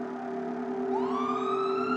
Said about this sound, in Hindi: उस हॉस्पिटल से मोमो के घर के लिए एक इमरजेंसी एम्बुलेंस भेज दी जाती है